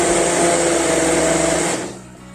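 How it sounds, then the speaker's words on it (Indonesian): A kitchen blender whirs at high speed, blending dates into milk, as a loud, steady motor drone that cuts off abruptly near the end and leaves a faint residual hum. "langsung saja kurma yang sudah dimasukkan ke dalam susu kita blend"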